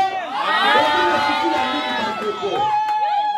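A crowd shouts and cheers loudly all at once, voices overlapping in a sustained roar that fades near the end.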